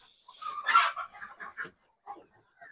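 Chickens clucking inside a backyard coop: a short burst of several close, fairly loud clucks, then a couple of quieter, scattered calls.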